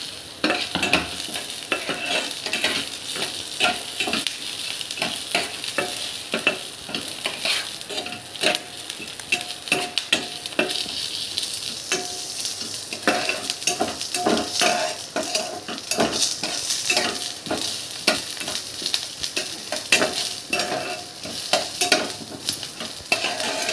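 Chopped onion sizzles steadily in hot oil with browned chana dal while a spatula stirs, scraping the pan in frequent close, sharp strokes over a continuous hiss with no talking.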